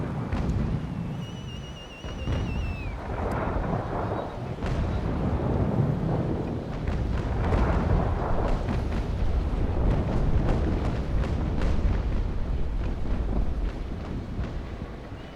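Deep booming blasts of ship cannon broadsides in a naval video game roll out repeatedly over a steady rumble, heavy and continuous like distant cannon fire, with no talking.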